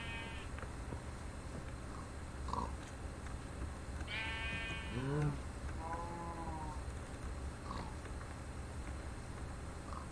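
Cows in the video game Minecraft give a couple of low, drawn-out moos, fairly faint, with a few soft game sounds around them.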